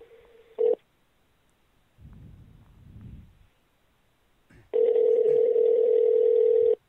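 A telephone-style caller machine in a radio show studio: a short burst of dial tone, a pause with soft rustling and handling, then a loud, steady dial tone that continues to the end.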